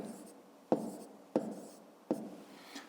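Pen or chalk writing numbers by hand during a fifth-grade arithmetic multiplication exercise: three short scratchy strokes spaced about a second apart, fairly close and faint, with no talk over them.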